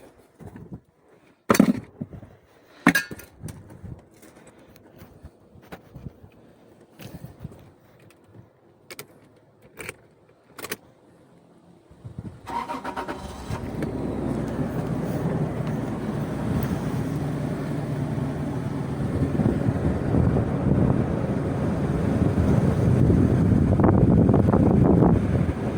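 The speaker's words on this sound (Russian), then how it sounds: "Будем пробовать заводить и переключать." Toyota Land Cruiser Prado 120 with automatic transmission: a few clicks and clunks, then the engine starts and settles into a steady, fairly loud idle with a rising rumble.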